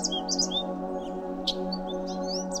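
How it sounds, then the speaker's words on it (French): Several birds sing in short bright chirps and whistles over a steady humming drone, fairly close and continuous throughout. "Tu entends peut-être le chant des oiseaux"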